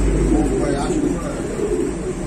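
Pigeons coo in a pigeon shop, a low soft throaty burbling close by, with shop noise and voices in the background.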